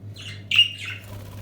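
A female budgerigar in a breeding cage gives a short burst of sharp squawks and chirps, close and moderately loud, over a steady low electrical hum.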